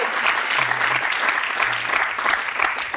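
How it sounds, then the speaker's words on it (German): A live studio crowd claps loudly after two guests sing on a German song-guessing show, a dense, sustained round of applause with faint low hums beneath. "Noch mal einen Riesen Applaus gemacht."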